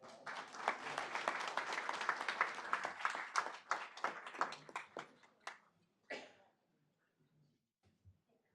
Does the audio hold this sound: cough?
no